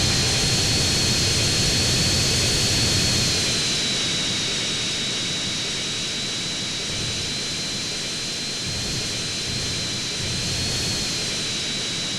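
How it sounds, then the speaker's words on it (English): A fixed-wing airplane landing at Los Venturas International airport in the video game GTA San Andreas, its steady jet engine roar sustained throughout with a continuous high whine above the rumble. "Flight CJ-101, you are cleared for landing on runway 3."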